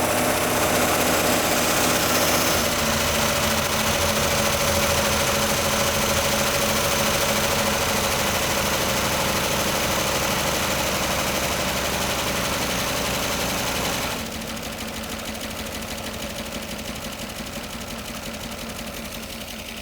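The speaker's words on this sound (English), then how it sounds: "This 37 Buick straight 8 is running." A neglected 1937 Buick Special straight-eight engine runs steadily up close, a constant rhythmic clatter that drops slightly in level partway through.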